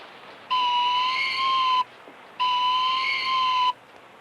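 Two long steady blasts from a hawk-training whistle sound close and loud, each lasting about a second and a half, with a short pause between them.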